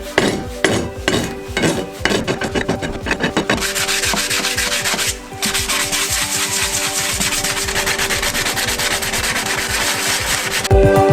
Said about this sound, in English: to finish off, we just smooth them off with the rasp